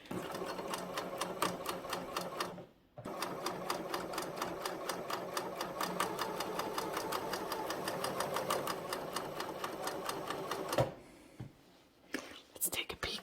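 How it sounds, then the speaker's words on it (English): A coverstitch sewing machine runs a chain stitch through fabric, a steady close mechanical whir with a fast even needle rhythm, pausing briefly once and stopping near the end amid handling noises. "we are from the wrong side going to create this chain stitch."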